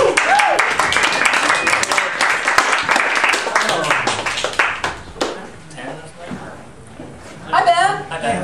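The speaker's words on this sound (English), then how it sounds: "Clap your hands." An audience at a comedy chat show claps as a ukulele player is brought on stage: dense, steady clapping fills most of the stretch, then thins into scattered claps and voices, with talk and laughter near the end.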